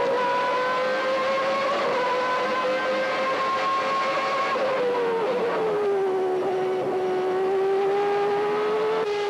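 Formula One race cars of the 1991 season sweeping through fast downhill corners, a high, sustained engine whine that dips and slides in pitch as they brake and accelerate, loud and continuous.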